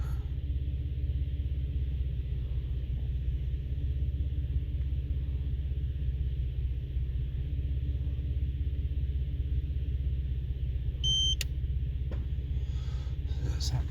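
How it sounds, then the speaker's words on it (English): A Nissan Stagea M35 fitted with an ITSROM ECU idles with a steady low engine rumble, then a short, sharp electronic beep sounds near the end, followed by a faint mechanical clunk. "There's that beep, it changing over. You might have heard the solenoid clunk then as well."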